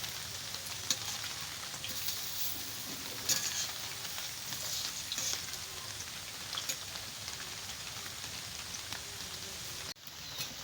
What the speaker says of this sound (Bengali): পকোড়াগুলো দেখুন আমি উল্টে পাল্টে লাল লাল করে ভেজে নেব